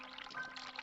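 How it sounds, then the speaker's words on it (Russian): Running water pours steadily in The Cat Lady video game, a brief continuous splashing flow heard alone at moderate level. "Я слышу шум воды, надо спешить"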